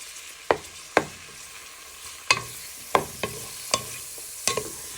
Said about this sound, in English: you want to give that a stir in so they go nice and soft and give out flavour to the pork